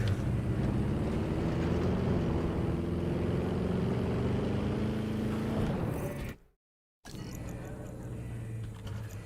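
A car engine from the dinosaur park game Jurassic World Evolution 2 drones steadily, its pitch rising slowly as it revs. It cuts out abruptly to silence for a moment, then a quieter mechanical hum returns.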